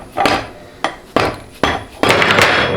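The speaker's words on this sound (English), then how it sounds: "I gotta use a hammer to remove it." Repeated hammer blows strike metal while knocking a part off the output shaft of a 4L60E automatic transmission during a teardown, five loud sharp hits spaced about half a second apart, close up with no talk.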